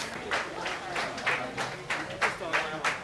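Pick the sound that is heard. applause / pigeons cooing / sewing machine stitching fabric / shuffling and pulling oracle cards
applause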